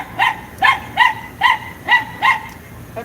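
A dog barks six times in a steady rhythm, sharp and fairly close, with no other sounds around it.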